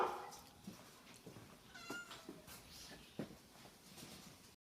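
Several cats meow in a shelter quarantine room, short cries scattered across a few seconds at close range, with faint shuffling in the background.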